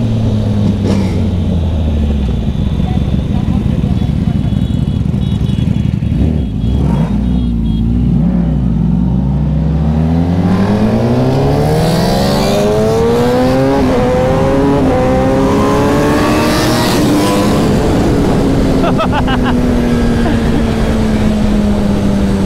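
Ducati and Suzuki Hayabusa sport motorcycles ridden fast on an open road, engines loud and close, revving hard with rising and falling pitch through gear changes amid steady wind rush.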